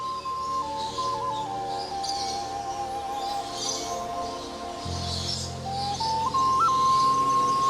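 Birds in a Himalayan jungle call with long, clear whistled notes that slide and step in pitch, accompanied by softer chirps, against a sustained musical drone.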